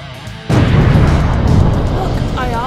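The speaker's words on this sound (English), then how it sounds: "so this explosion is on you" A loud explosion in a game launch trailer bursts in suddenly and sustains a heavy, rumbling roar that continues to the end, with a brief whistling tone near the close.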